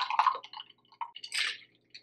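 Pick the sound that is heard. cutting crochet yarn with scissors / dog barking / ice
ice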